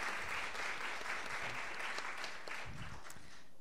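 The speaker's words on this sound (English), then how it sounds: "let's give another round of applause to these fabulous musicians." Audience applause for musicians at a book launch, steady and fairly even clapping sustained through the whole stretch, moderately distant with a roomy sound and no voices.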